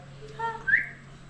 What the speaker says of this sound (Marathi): हा वाजव शिटी.